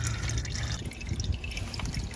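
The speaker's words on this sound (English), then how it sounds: "We got her draining, still trickling down." Coolant draining from a VW GTI, a steady close trickle of liquid with light drips spattering into a container, continuous and with no talking.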